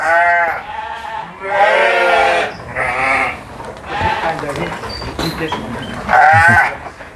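Cross Texel ewes bleat repeatedly and loudly at a livestock farm, several wavering calls in close succession, with someone speaking between them.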